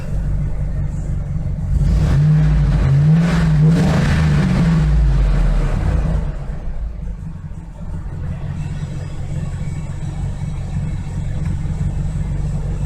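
A car engine idles steadily at around 700 RPM, a low, even hum that swells briefly in the first few seconds, then settles into a quieter, smooth drone nearby.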